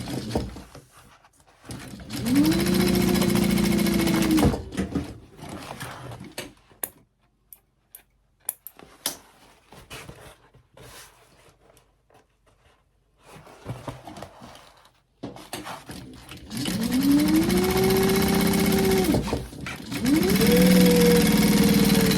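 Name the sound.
sewing machine stitching a woven label onto a gift bag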